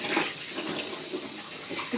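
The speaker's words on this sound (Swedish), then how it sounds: "Men du kan inte spruta vatten nu sådär." Water sprays steadily in a home shower with a child in it, a continuous hissing rush that is close and fairly loud, with no talking.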